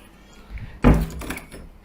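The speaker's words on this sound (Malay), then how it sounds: "Kena buka pintu ke budak kecil ya." A door opens indoors with a single solid thud and a brief rattle, followed by faint shuffling, heard close and moderately loud.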